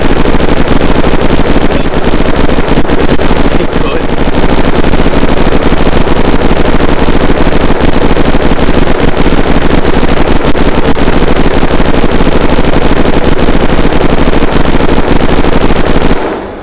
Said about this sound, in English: you fired the minigun